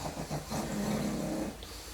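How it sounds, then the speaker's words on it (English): A pet dog snores close by in a quiet room, making a few soft, rhythmic rasping breaths, with a longer snore in the middle. "She's always snoring when I'm filming"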